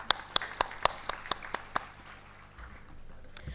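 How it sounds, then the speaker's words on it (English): Scattered audience clapping at a Virtual University of Pakistan convocation in Sialkot: about eight sharp, distinct claps in an uneven rhythm, then fading into quiet room noise. "Please give a huge round of applause to our parents"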